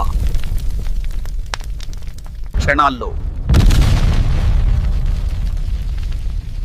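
An explosion sound effect for a diesel tanker colliding with a bus and bursting into fire in Saudi Arabia: a single heavy boom, then a sustained roaring rumble, under a narrating voice.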